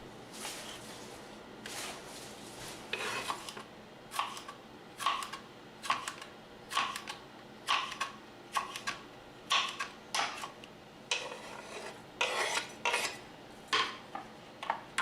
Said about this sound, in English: I slice fresh jalapeno peppers into rings.